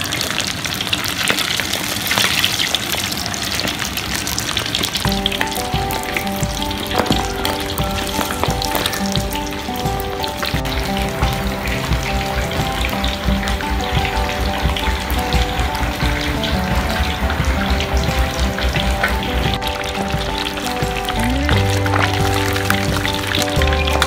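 Frog pieces deep frying in hot bubbling oil for salted frog, a loud continuous sizzle with crackling and popping over a steady roar, with clinks of utensils and a faint voice beneath.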